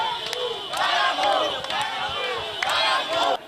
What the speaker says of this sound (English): The walk was full of vigor as crowds chanted throughout the entire stretch